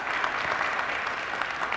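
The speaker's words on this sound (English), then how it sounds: "please a big round of applause for Cam" Sustained audience applause fills a panel-discussion room, a dense, even clatter of many hands clapping close by with no break.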